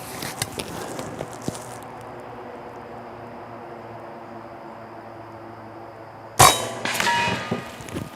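An Air Force .25 caliber PCP air rifle fires at a section of cinder block backed by steel, heard as a single sharp crack and metallic impact after a quiet stretch with faint clicks, followed by a brief ringing tail.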